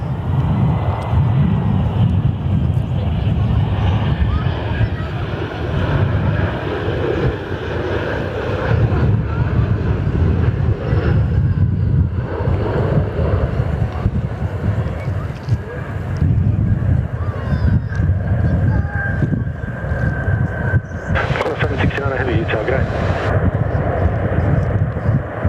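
A Velocity Boeing 737-800 lands on runway 03 at Perth Airport, its steady, loud jet roar filling the whole stretch, buffeted by wind across the microphone.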